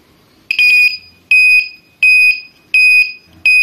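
Neutral flasher buzzer on a Honda 70 motorcycle sounding loud, high electronic beeps in a steady on-off rhythm, five long pulses separated by short gaps, close up with no talking.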